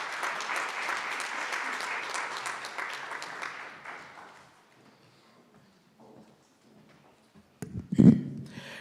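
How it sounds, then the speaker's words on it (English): An audience at a youth democracy and e-voting event applauds in a dense burst of clapping that fades out over about four seconds, followed by near silence and a brief thump. "Another round of applause."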